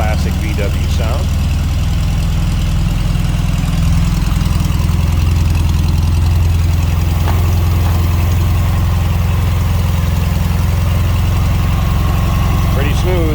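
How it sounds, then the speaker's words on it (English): Steady, even idle from a 1968 Volkswagen Beetle engine, a continuous low rumble lasting the whole stretch, with brief bits of speech at the beginning and end. "Of course, that classic VW sound."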